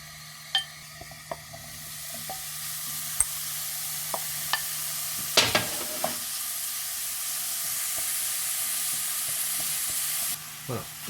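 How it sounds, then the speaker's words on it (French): Lardons fry in a pan with a steady, close sizzle, broken by a few clinks and scrapes from stirring and handling the pan, until the sizzle drops away near the end. "Maintenant, on va faire revenir nos lardons."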